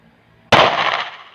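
A single sharp pistol shot at a firing range test, loud and close, with a quick ringing decay after it.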